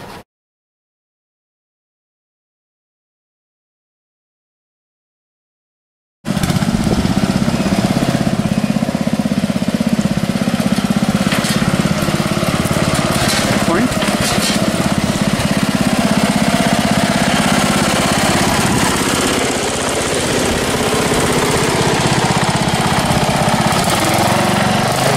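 Lawn mower engines run at a county fair lawn mower demolition derby. After several seconds of silence a loud, continuous, rough engine roar sets in and holds steady to the end.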